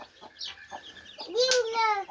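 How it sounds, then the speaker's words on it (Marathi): Small farm chicks peeping and cheeping in a village yard, brief high chirps scattered across the moment, ending in a louder, sustained squeaky call close by. "कोंबडी पिल्ला दाखवते"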